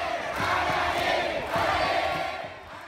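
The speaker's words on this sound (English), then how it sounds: "True to Japanese form, they have a cheer for every single player." A stadium crowd at a Japanese baseball game chants an organized cheer for a player, voices rising and falling in a rhythmic, pulsing pattern at a moderate distance.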